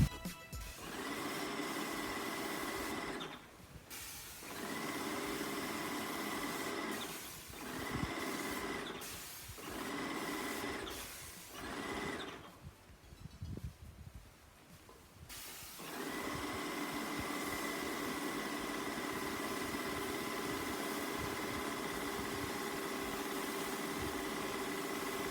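A Wagner 250M paint sprayer runs steadily with a droning motor hum while painting a garage exterior, stopping and restarting a few times in short bursts before settling into a long continuous run.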